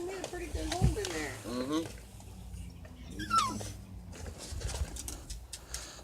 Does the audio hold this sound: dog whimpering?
yes